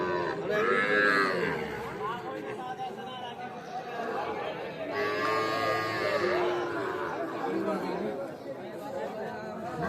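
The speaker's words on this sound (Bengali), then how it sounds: "এখানে দেখছি কয়েকটা বাছুর" Calves at the Ambari cattle market moo in several drawn-out calls under steady crowd chatter and people talking nearby.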